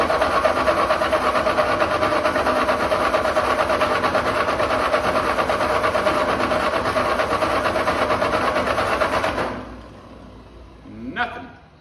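A Ford 8N tractor cranks on choke without starting, giving a long, loud, even mechanical chug for about nine seconds. It then stops abruptly, leaving a quiet tail with a brief faint sound near the end.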